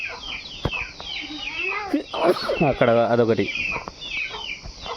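Backyard chickens cluck and a rooster lets out a short crow midway, close by, under steady conversation with a voice.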